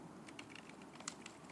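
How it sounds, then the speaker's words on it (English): Shift and arrow keys on a computer keyboard are pressed in soft, quick clicks with a few louder taps, quiet and close in a calm room with no speech. "I'm holding the shift and the arrow keys, the right or the left arrow keys as the case may be."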